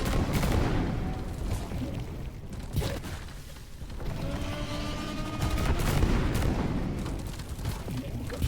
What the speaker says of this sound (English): Got to dodge all these bullets.